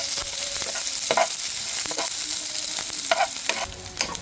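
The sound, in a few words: onions sautéing in frying pan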